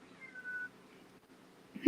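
A cat gives one faint, thin meow among graveyard headstones, followed by a short louder burst of sound at the very end.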